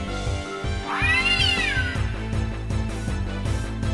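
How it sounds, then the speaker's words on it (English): The Gimme Cat in the modded Final Fantasy IX video game lets out a single drawn-out, rising-then-falling meow over a steady, looping game soundtrack with a pulsing beat. "this is the Gimme Cat"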